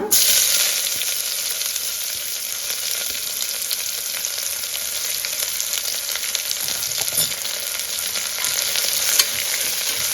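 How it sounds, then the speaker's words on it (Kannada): Sliced onion fries in hot oil in a pan for pulao, a loud, constant sizzle with a bright crackling hiss and occasional stirring scrapes, with no talk over it. "ಇದು ಚೆನ್ನಾಗಿ ಫ್ರೈ ಆಗಿದೆ"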